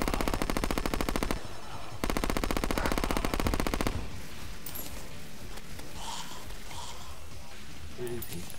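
Rapid automatic gunfire from a gun in the video game Terraria, dense loud bursts of rattling shots that cut off, resume and then give way to quieter scattered game effects under a speaking voice.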